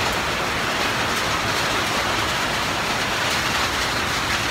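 Heavy rain pouring onto a house under construction, a dense, loud, continuous hiss with no breaks and no voices.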